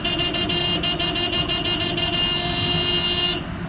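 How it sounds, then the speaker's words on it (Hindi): Car horn on a road during a driving lesson, a run of rapid repeated honks followed by one long sustained blast, loud and close over steady engine and traffic noise. "आगे वालों के लिए हॉर्न दे दें"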